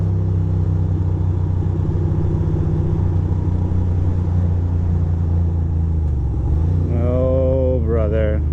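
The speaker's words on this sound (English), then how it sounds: "A little bit of traffic starting up that way." Road traffic in New York City on an early evening, a steady close engine rumble with vehicles idling and starting to pull away, ending in a rising rev as one accelerates.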